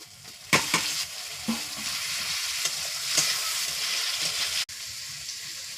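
Tomatoes sizzle and fry in a pan with onion and garlic, a close crackling hiss with a few sharp stirring scrapes near the start and a brief break near the end.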